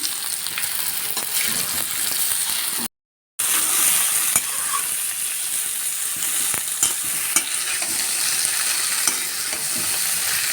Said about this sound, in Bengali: শাকটা দিয়ে আমরা বেশ কিছুক্ষণ ভালো করে নেড়ে চেড়ে নিব